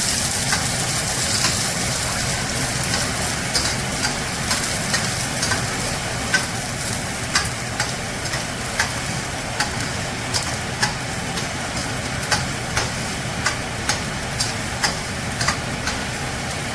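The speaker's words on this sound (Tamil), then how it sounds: "இப்போ வெங்காயத்தை அதில் போட போகிறோம். சின்ன வெங்காயம் நறுக்கி வச்சுருக்கேன், போட்டுட்டு அது கொஞ்சம் வதங்கணும்." Chopped small onions frying in oil with mustard seeds, a steady close sizzle punctuated by regular sharp clicks and pops.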